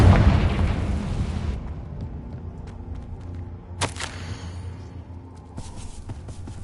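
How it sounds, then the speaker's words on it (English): A Confringo explosion spell in Hogwarts Legacy bursts with a loud booming roar that fades into rumble, followed by a second sharp blast and crackling debris. "Confringo!"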